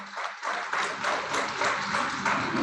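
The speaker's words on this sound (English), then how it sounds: "A round of applause for her as she steps forward," Workshop attendees at an opening ceremony in Nigeria break into applause after a brief pause, a dense, even wash of clapping that swells quickly and holds steady.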